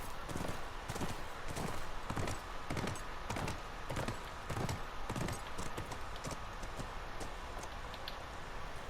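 Steady clip-clop of horse hooves walking in The Last of Us, a rhythmic run of close, moderately quiet hoofbeats with no talking over them.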